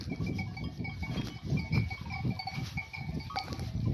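A flock of sheep on a highland pasture, with a few bleats rising over a low, muffled shuffle of animals and wind, faint and fairly close.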